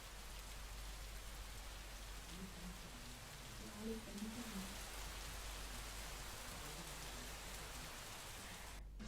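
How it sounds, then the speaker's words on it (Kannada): Wind-driven rain falls across Bengaluru, a steady faint hiss of drops on surfaces that runs without pause, soft and distant, with a few brief low murmurs in the middle. "ಗಾಳಿ ಸಹಿತವಾಗಿ ಮಳೆ ಬರ್ತಾ ಇದೆ."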